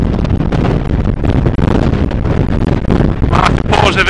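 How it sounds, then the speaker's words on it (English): Loud, buffeting wind on Mount Longdon roars across the microphone in heavy gusts and rumbling thumps, constant and close, with no clear speech. "it was pretty windy."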